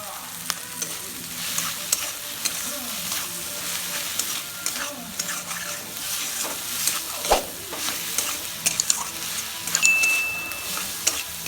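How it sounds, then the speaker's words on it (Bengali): Snake gourd and shrimp sizzling in a frying pan while a utensil stirs and scrapes, with steady frying hiss under irregular stirring clatter. "স্বাদ মতো নুন দিয়ে একটু নেড়ে নেব।"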